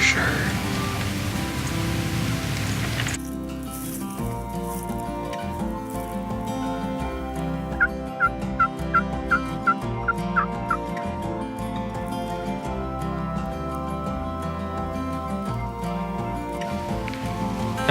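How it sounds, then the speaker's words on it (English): Several wild turkeys gobble in a rapid burst of calls midway through, heard over a steady background of rain pattering on the surface during an archery turkey hunt, with a faint voice briefly audible. "There's four birds for sure."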